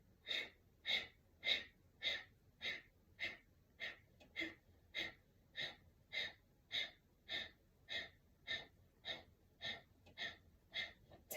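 Rhythmic breathing during a yoga breathwork session, about twenty steady, evenly spaced breaths in a row, close and fairly soft, with no talking.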